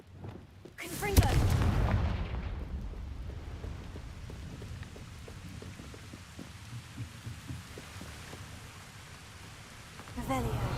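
A Confringo blasting spell goes off in the Hogwarts Legacy video game: a sharp, booming blast near the start rolls into a long rumbling decay, with another burst near the end.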